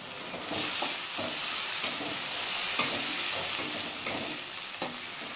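Small tomatoes fry in a pan with salt, giving a steady close sizzle broken by a few soft scrapes and taps of a spatula, with no voices.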